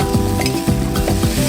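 Potatoes fry in hot oil in a kazan over an open fire, a loud, close, continuous sizzle with bubbling crackle and no voices.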